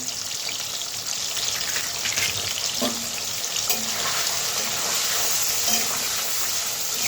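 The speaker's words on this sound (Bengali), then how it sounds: "তেল গরম হয়ে গেছে, পনিরগুলো ছেড়ে দিই।" Paneer pieces fry in hot oil, giving a steady, close sizzle that holds throughout, with a few faint clinks from the pan and no talking.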